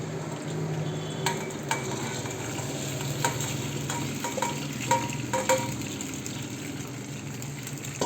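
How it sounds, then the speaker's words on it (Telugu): Pasta tipped into a pan with garlic and butter, then stirred: a soft steady sizzle under scraping and clattering stir strokes, close and fairly quiet, with no talking. "ఇప్పుడు దీంట్లోకి మనం పాస్తా వేద్దాము."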